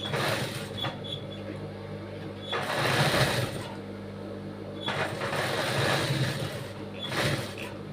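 A sewing machine stitches fabric for cut work embroidery, running in bursts of rapid, steady whirring with short pauses between runs, close and fairly loud.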